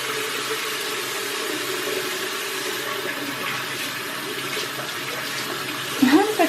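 Tap water running steadily into a sink while a face mask is rinsed off, an even splashing hiss with a brief burst of louder splashing near the end.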